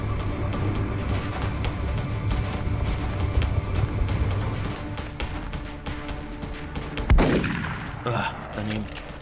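Gunshots ring out in the turn-based tactics game XCOM: Enemy Unknown, a sustained crackle of weapon fire that ends with one sharp, loud blast, with a voice faintly under it.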